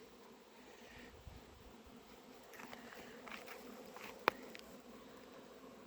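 Honeybees fly around apiary hives after winter, a steady outdoor buzz of many insects with a few louder passes near the listener, and no speech.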